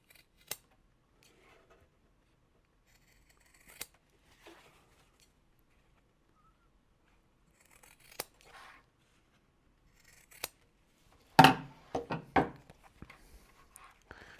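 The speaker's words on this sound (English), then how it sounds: "Then we take our scissors and make those diagonal cuts." Scissors snip through thick denim in sparse, isolated diagonal cuts separated by quiet gaps, then a denser run of crisp snips near the end.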